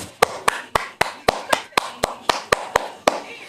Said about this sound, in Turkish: Alkış yapalım